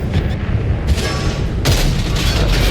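A tank cannon firing in World of Tanks on console, the round slamming into the ground: a loud, dense boom with broadband crackle that jumps again near the end amid continuous battle rumble.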